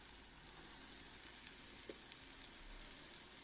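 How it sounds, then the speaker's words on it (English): Vada lentil fritters deep fry in hot oil over medium to high flame, giving a steady, soft, close sizzle with faint crackles throughout. "fry it until it's golden brown and crispy"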